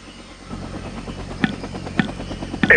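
In the Vietnam 65 video game, a helicopter's low rotor hum runs steadily under short sharp game sound effects that pop up at intervals, with no speech.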